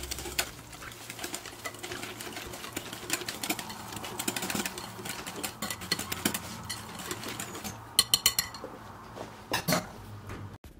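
Baking powder, salt and egg whites are stirred together in a bowl, giving a steady scraping, clinking clatter of a utensil against the bowl with quick sharp taps, fairly quiet and with no talking.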